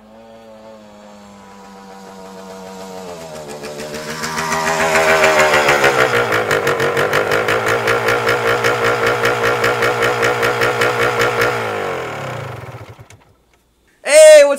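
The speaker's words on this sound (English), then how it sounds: "we're going to be able to get a good listen to his motorcycle as it pulls up to the house" A motorcycle pulls up to a house, its engine rising from a low rumble into a loud, pulsing idle as it approaches and holds close, then cutting off near the end before a brief loud burst.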